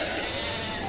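A sheep bleats up close in a small-town farm setting, one drawn-out wavering call filling the short moment, with faint background noise around it.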